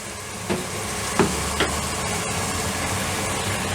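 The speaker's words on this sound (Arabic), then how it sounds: "كده اللحمه تمام. هنزل بقى الطماطم" Tomatoes go into a pan of browned meat for an oat, meat and vegetable soup. A steady sizzle and fry fills the clip, broken by a few light knocks of utensils on the pan.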